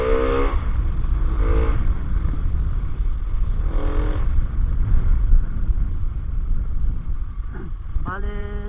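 A motorcycle engine in a group road ride drones steadily and loudly up close, with a few brief rising revs partway through and a sharper climbing rev near the end.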